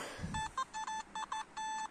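A Nokta Simplex metal detector sounds a series of short, clear electronic beeps in a broken rhythm, five or six pulses within two seconds, close and fairly quiet with faint outdoor background and no speech.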